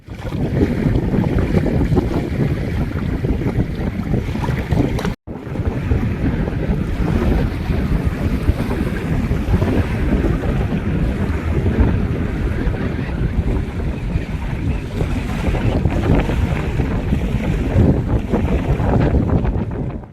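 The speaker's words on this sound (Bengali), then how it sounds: "জলের ঢেউ কলরবে খেলা করছে বাতাসের সঙ্গে" Loud wind buffets the microphone while river waves slap and wash against a boat, a constant roar with one brief dropout partway through.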